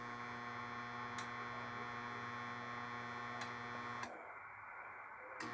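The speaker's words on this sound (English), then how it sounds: "this particular rotor only does a brake release, and it does not rotate." A CDE antenna rotor control box gives a steady electrical hum with its brake released, joined by a few faint ticks before it cuts lower and quieter near the end.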